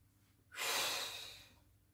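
A single deep inhale through the nose swells sharply and fades over about a second, close and clear in a quiet room during a floor exercise with a rolled-up towel for hip flexor opening.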